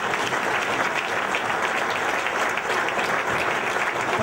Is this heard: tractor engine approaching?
no